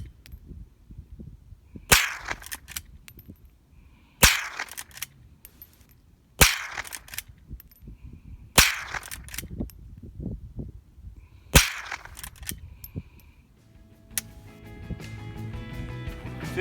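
Five loud, sharp reports from a Henry .22LR lever-action rifle fired outdoors, spaced about two seconds apart with mechanical clicks of the lever between shots, then a quieter stretch of handling noise at the end.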